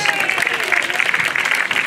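A Bonifacio Day parade crowd claps loudly in a dense, continuous patter while an announcer talks over the applause.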